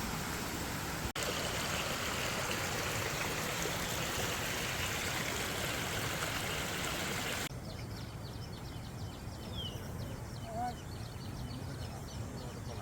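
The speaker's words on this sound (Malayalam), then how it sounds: "നമ്മൾ ഈ ഒരു കുഞ്ഞു കുഞ്ഞു പുഴ ഡാമിൻ്റെ ഈ സൈഡിൽ കൂടെ ക്രോസ് ചെയ്ത് പോവാം." A small river stream flowing beside a dam on a forest trek, a dense continuous rush of water close by that drops to a quieter, farther trickle partway through, with a faint bird call.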